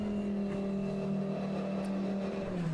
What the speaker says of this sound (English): As into the pits comes the 32 Audi